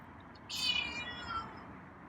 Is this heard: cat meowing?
yes